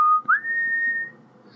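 A single person whistles a clear, sustained tone that slides upward briefly and then holds steady, close and fairly loud, with no talking.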